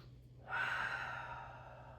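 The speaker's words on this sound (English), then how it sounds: "Let's take a deep breath in and out here." A single deep inhale and exhale during a child's pose in a mat Pilates session, a soft airy rush that swells in quickly and then trails off slowly, close and fairly quiet over a low steady hum.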